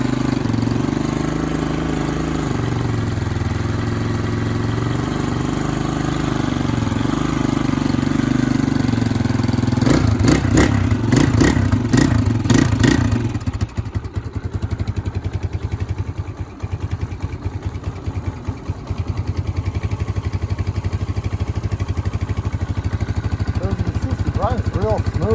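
A Lifan 200 engine swapped into a 1999 Honda XR200 motorcycle, with exhaust and baffle fitted, cold-starting: a short burst of cranking and catching, then a steady, even idle continuing close by.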